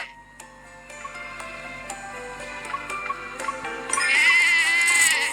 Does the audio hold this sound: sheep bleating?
yes